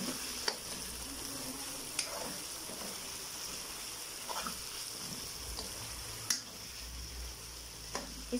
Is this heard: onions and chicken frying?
yes